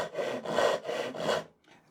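A 240mm Razorsaw ryoba Japanese pull saw rip-cuts through wood in four steady rasping strokes, loud and close, each stroke a harsh gritty scrape before a brief pause.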